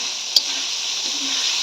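Raw tomato masala frying and being stirred in a pan, a steady close sizzle with a single sharp scrape of the spoon near the start.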